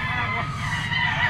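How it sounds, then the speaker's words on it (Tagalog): A Kelso bull stag rooster, a young gamefowl at a gamefowl market, calls with honking, crowing-like vocalizations over dense, steady crowd and fowl noise close by. "dala ni Boss Rim isang bull stag mga tol, Kelso"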